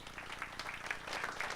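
Applause from the audience at a strategic plan launch event, dense steady clapping from many hands filling the room, heard at a distance and fairly quiet, with no voices over it.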